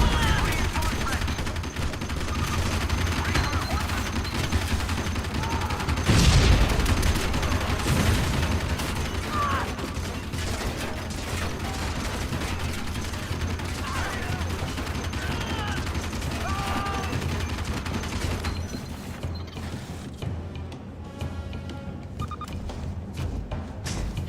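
Rapid turret gunfire from the video game Shadow Complex rattles on continuously with dense overlapping shots, loud and close, and a heavier blast bursts out near the middle.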